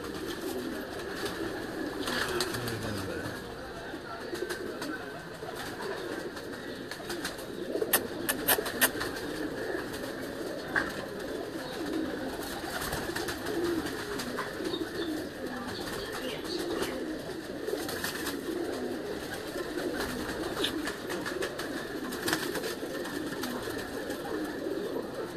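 Pigeons kept on a rooftop loft in Lahore coo steadily and continuously, a dense, mid-distance murmur of overlapping calls with occasional wing flutters.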